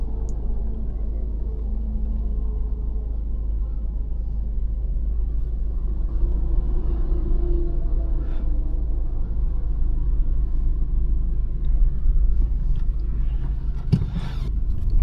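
A car cruising on the highway from Ghaziabad toward Kanpur, heard from inside as a steady low road rumble and engine hum, even and continuous, with a brief knock near the end.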